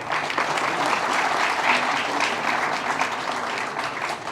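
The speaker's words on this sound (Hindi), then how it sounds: "तालियां एक बार।" Sustained applause from an event audience honoring a heart surgeon at a breast cancer awareness gathering, steady and dense clapping throughout with no breaks.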